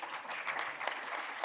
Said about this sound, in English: A round of applause for David, please, as he comes on the stage.